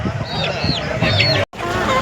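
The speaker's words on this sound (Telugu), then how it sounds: "మీరు చూస్తున్న కోళ్ళు వచ్చేసి ప్యూర్ నాటుకోళ్ళు" Country chickens cluck in short, rising calls at close range at a poultry market, against a busy background murmur.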